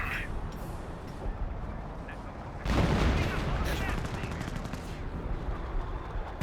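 Gunfire and an artillery barrage rage in Company of Heroes 1, a Wehrmacht versus British match: rapid machine-gun rattles and shots build into a loud, dense barrage partway through, while a commentator talks over it.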